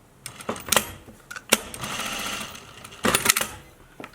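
Sewing machine stitching the seam of a fabric face mask in short irregular bursts, quick whirring runs separated by pauses and clicks, loud and close.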